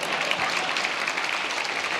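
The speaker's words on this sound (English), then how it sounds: "Yeah, applaud that." Steady applause from an audience at a civic housing, transportation and jobs summit in Los Angeles, a dense even patter of many hands clapping throughout without a break.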